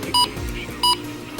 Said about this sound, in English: so that's pretty much the button beeps, a pretty standard feature